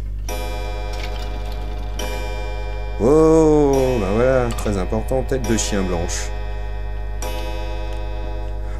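A pendulum clock in the horror video game Resident Evil 7 ticks in a steady, even rhythm over a constant low hum, while someone talks in French through the middle.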